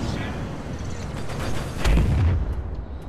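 Missile launch in the Star Citizen space game: a rumbling rush and boom swelling to a peak near the end of a short burst, set over continuous engine and ambient noise.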